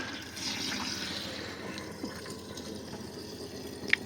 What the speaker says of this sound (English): And just do the same with the sink now. Drain it down into the waste tank.